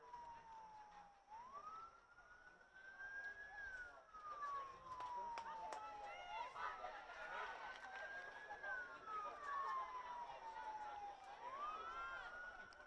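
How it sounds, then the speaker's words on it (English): Police sirens wail up and down in the distance, sweeping through several cycles as they pass a high school soccer game, with a low murmur of background activity underneath. "The field mics are picking up some sirens going by."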